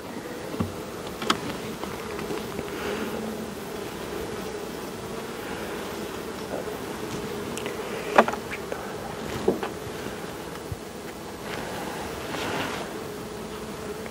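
A honeybee swarm being moved in October fills the air with a steady, dense buzzing, close and continuous, with a few louder bees passing near and faint rustles beneath, and no talking.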